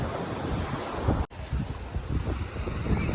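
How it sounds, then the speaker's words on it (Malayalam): Waves wash steadily onto a beach near Kochi with heavy wind buffeting the microphone, a brief dropout midway, no voices. "ഇപ്പോൾ വെള്ളം ഇവിടം വരെ വന്നല്ലേ ഭയങ്കര നല്ല തിരയുണ്ടല്ലേ"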